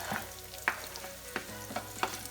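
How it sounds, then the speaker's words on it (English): Onion, garlic and ginger sizzle steadily in a frying pan, close and fairly quiet, while a utensil stirs them in a handful of distinct scraping knocks spaced about half a second apart, with no talking. "Onion, garlic, and ginger. And I'm just gonna cook those"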